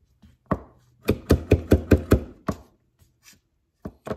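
Knife chopping cilantro, onions and peppers on a cutting board: a fast run of about eight crisp, close chops with a few scattered taps before and after, no talking.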